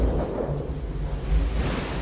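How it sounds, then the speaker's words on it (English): Deep rolling thunder from an electrical storm in Jupiter's churning clouds, a loud continuous low rumble with no voices. "All those churning clouds have sparked an electrical storm."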